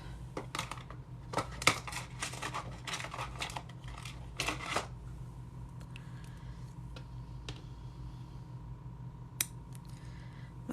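Scissors snip through yarn at a crochet project. Several crisp, close cuts come early, followed by quieter handling clicks in a hushed room with no talk.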